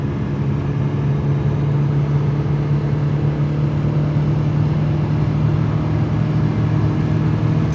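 Nissan Pike car (Pao, Figaro or Be-1) accelerating on a highway, a steady droning engine hum with road and wind noise heard from inside the cabin, continuous and fairly loud without voices.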